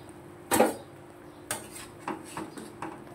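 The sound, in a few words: pouring chhana jalebis out of the syrup pan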